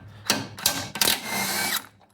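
An impact wrench removes the bolts of a Dodge Ram transmission mount, firing in three short, sharp bursts close by within about two seconds, with brief pauses between them.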